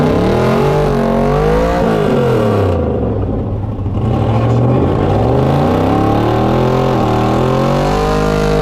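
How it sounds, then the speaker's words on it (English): An SN95 Mustang drag car doing a burnout at a no-prep street race, the engine revving hard and loud with rising and falling pitch, then settling into a sustained high-rev roar. "Good burnout for him."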